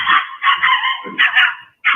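A Chihuahua barks repeatedly in sharp, high yappy bursts, close and loud, with short gaps between barks and a final bark starting just before the end.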